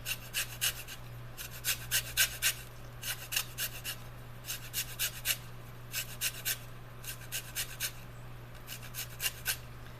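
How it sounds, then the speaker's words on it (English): Lemon rind grated for zest, rapid close rasping strokes in short repeated bursts of three or four, steady and dry over a low background hum, with no talk. "you're just kind of grating off the rind of that lemon"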